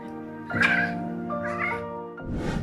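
A Maine Coon cat meows in greeting, two drawn-out, tonal meows close to the listener followed by a shorter, rougher vocal sound, all loud and clear with no talking.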